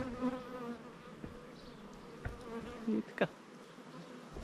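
Bees buzz around a hive in an apiary with new nucleus colonies, a soft, continuous drone of flying insects heard at a distance, while someone speaks quietly now and then.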